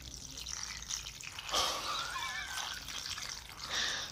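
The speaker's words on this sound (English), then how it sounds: "I just take the broth, and I pour it right on top." Broth is poured over a bowl of noodles, giving a close liquid splash and trickle with a brief louder gush partway through, then steady dribbling.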